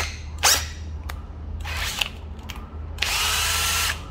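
A used Japanese cordless drill whirs in several short bursts, the last about a second long, loud and close, with a few sharp clicks between runs over a low hum, no talk.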